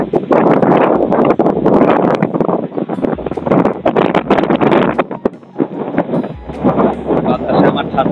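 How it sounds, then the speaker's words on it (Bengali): Strong wind near the sea at Cox's Bazar buffets the microphone in loud, gusty rumbles that rise and fall, with a brief lull midway and possible voices partly buried underneath. "খুব বাতাস"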